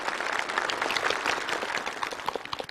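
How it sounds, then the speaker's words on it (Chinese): Warm applause from a television studio audience at a military storytelling show, dense steady clapping sustained for the whole stretch with a few sharper individual claps near the end. "再为你送上一次热烈的掌声"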